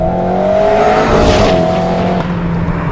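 Alpine A110S with its 1.8 litre engine revving high, a loud close engine note climbing in pitch and holding near the top before easing slightly, no voices.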